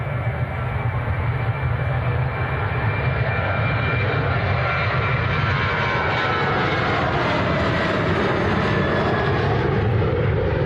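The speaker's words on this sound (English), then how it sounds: "We have a Ryanair taxiing in the middle, a Ryanair taking off, and a Ryanair touching down." Ryanair jets taxi, take off and land at Manchester Airport, filling the air with a loud, continuous engine roar and rumble that holds steady from start to finish, with no speech.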